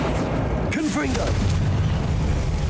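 Confringo blasting spell in Hogwarts Legacy, a video game: a deep booming explosion with rumbling burst lands under loud game noise, while a voice speaks briefly over the blast.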